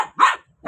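A pet Shih Tzu gives two short, sharp barks close by, with a brief gap between them.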